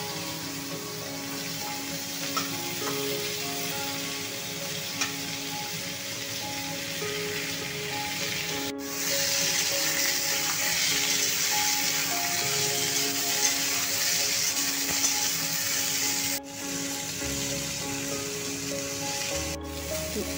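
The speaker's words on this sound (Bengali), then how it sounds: "পেঁপেটাকে ভালো করে নেড়ে চেড়ে একটু ভেজে নেব" Papaya and potato pieces frying in hot mustard oil with black cumin seeds in a wok, a continuous even sizzle like rain on a surface that swells partway through, with only faint stirring and no voices.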